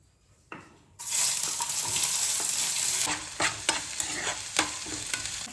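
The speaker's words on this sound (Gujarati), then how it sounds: "તેલમાં બધું શાકભાજી નાખી દેવાનું" Vegetables drop into hot oil with a sudden loud sizzle after a brief quiet start, then keep frying steadily while being stirred, with scraping clicks and spoon knocks near the pan.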